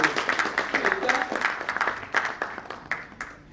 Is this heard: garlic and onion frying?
no